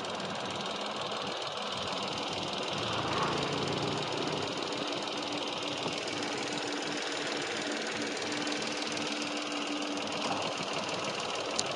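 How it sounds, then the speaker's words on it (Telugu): A new car's engine idling steadily with the air conditioning switched on, a continuous mechanical hum with faint rhythmic ticking, heard up close during a pre-delivery inspection, no talking. "ఏసీ ఆన్ చేయడం వల్ల ఏమవుతుందంటే ఇంజన్ పైన ఇంకొంచెం ప్రెజర్ పడుతుంది."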